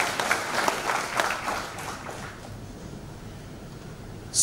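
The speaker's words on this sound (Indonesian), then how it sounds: "Berikan tepuk tangan buat kita semua." Applause from a church Christmas audience, dense clapping that is loudest at first and then fades into a softer, lingering patter.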